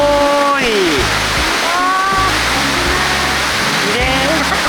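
A river runs through the village of Moustiers-Sainte-Marie in France, swollen with clear water after snowfall, giving a steady, loud, close rush of flowing water throughout, with voices exclaiming briefly over it.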